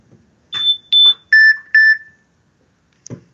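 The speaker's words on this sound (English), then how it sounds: "there's a phone call back here" A phone rings with an incoming call during a podcast interview, a few short electronic beeping tones in a clear repeating pattern in a quiet room, with a brief voice afterward.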